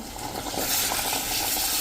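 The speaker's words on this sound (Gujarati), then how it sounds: "આપણે જે આ પાણી ઉકાળ્યું છે" Boiled water is poured into a sizzling tempering for a Saurashtra chapdi undhiyu curry, a loud brief surge of hiss and bubbling that holds steady close by.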